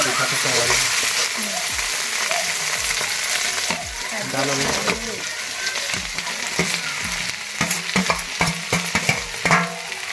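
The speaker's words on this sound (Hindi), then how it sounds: "नहीं थोड़ा टमाटर पहले थोड़ा हल्का भून चाहिए ना।" Tomatoes frying lightly in a pan with browned onion, stirred with repeated scraping strokes over a steady close sizzle; a few louder clatters toward the end, no talking.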